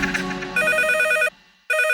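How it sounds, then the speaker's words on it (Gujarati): A telephone rings in a radio comedy studio, loud electronic trills sounding in two bursts separated by a brief gap, with no talking over it. "આયો ફોન આવ્યો, એકદમ ટાઈમિંગ જો તમે."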